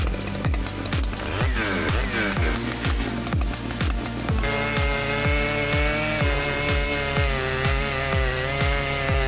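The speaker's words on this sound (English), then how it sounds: "Massive chainsaws like the 3120XP, MS881, and G888 dive into the super hard dry oak." Massive chainsaws such as the Husqvarna 3120XP, Stihl MS881 and G888 cut into super hard dry oak, loud and close, with a rapid regular engine pulse that shifts to a steadier higher whine partway through.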